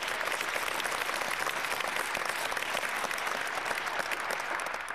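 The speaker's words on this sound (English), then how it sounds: "Give him a round of applause." A crowd at a Prince George's County event breaks into sustained applause, a thick, even roar of many clapping hands filling the room for several seconds without a break.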